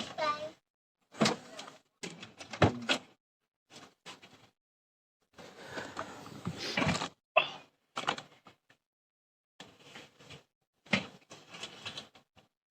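A car door is opened and then shut amid scattered clunks and handling noises, with people talking intermittently around the sounds.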